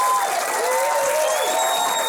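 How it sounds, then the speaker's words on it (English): Steady applause from a comedy club audience at a fringe comedy night, dense and sustained throughout with faint crowd murmur mixed in. "Carl Nichols, everyone, big round of applause."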